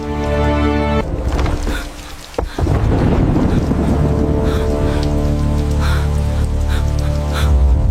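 Night storm outside, a heavy roaring wash of wind and rain that stays loud and steady, with a sudden crack partway through like thunder or a slam, then the roar resumes.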